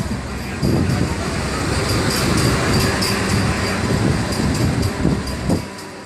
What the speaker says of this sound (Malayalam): ആന്ധ്രാപ്രദേശിലെ തിരുപ്പതിയിലേക്കാണ് ട്രെയിൻ അടുത്തുകൊണ്ടിരിക്കുന്നത്